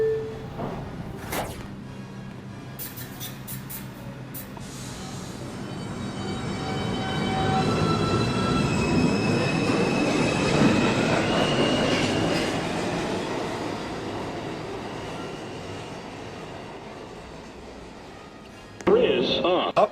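NYC subway 2 express train running through a station, a rising and fading roar of wheels on track with squeals and rattling, a brief announcement tone near the start and a sharp burst at the end.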